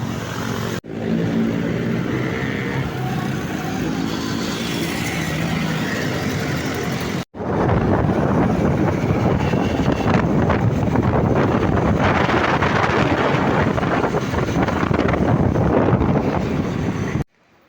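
Ride on an Angkas motorcycle taxi through Manila streets, with steady engine drone and heavy wind buffeting the microphone, loud and continuous throughout.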